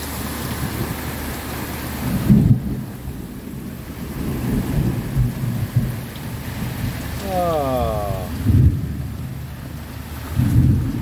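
Heavy steady rain pouring down, with low rumbles of thunder rolling in at intervals and a brief chirp partway through.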